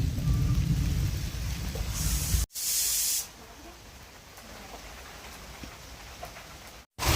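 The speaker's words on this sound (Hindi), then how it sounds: "इस समय काफ़ी तेज़ बारिश हो गई है" Heavy rain falls steadily on a village pond at night, making a broad continuous hiss that shifts in loudness between abrupt cuts, with no clear thunder.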